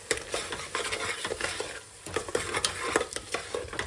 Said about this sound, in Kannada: ಹಾಕಿ ಚೆನ್ನಾಗಿ ಮಿಕ್ಸ್ ಮಾಡಬೇಕು ಗೈಸ್